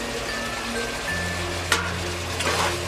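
Chicken roast with green chilli and lemon juice stirred in the pan, a steady loud sizzle with a low hum and a couple of brief scraping strokes of the spoon near the end.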